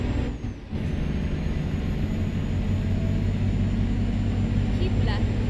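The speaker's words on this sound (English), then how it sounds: "And you can hear this truck just straining, right? Because it's so low on power." A low-powered truck engine straining in a truck driving simulator, a loud, steady, heavy drone that holds throughout with a brief dip near the start, while a voice talks over it.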